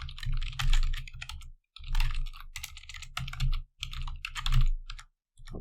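Close keystrokes on a computer keyboard as root login details are entered, coming in quick bursts of clicks split by short silent pauses.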